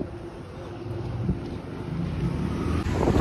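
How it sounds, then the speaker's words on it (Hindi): Wind gusting steadily at Marine Drive seafront, a broad rushing roar buffeting the microphone and rising toward the end, with faint surf beneath and no clear speech. "क्या हवा चल रही है"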